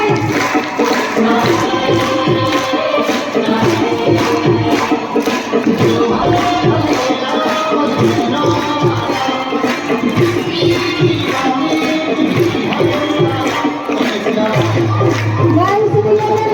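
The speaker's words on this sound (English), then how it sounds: "Put a great round of applause, everyone. Raise your hands and clap them loudly." A school festival audience claps and cheers in a dense, continuous wash of applause, loud and sustained, with crowd voices mixed in throughout.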